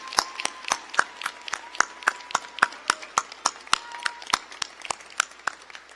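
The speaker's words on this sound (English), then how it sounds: "Can we have a round of applause for our graduates?" Audience at a university winter commencement clapping for the graduates: a steady run of crisp, evenly spaced claps, close and clear, with a faint underlying crowd murmur.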